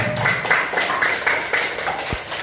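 Applause from a class gathered for a teacher-training performance assessment at a university in Yogyakarta, a steady patter of many hands clapping at moderate loudness for about two and a half seconds.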